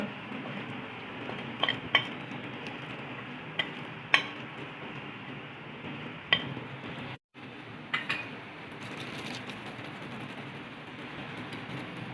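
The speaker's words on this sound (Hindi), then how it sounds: "और अब ये सारे स्पाइसेस हम मिक्स कर लेंगे यकजा" Spices for a Lahori fish fry are mixed in a bowl, with scattered clinks of a spoon against the dish over a steady background hiss, a brief dropout midway, then more taps.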